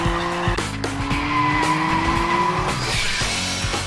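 A BMW M3 sedan with a twin-turbo inline six-cylinder engine drives hard with loud sustained tire squeal and skidding over a steady engine roar, shifting pitch as it slides.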